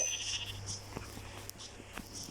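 Minecraft sheep bleat in a short wavering cry at the start, followed by faint game sounds and soft clicks in a quiet background, with no speech.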